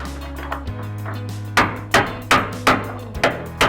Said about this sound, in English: We used a large flat-end screwdriver and a hammer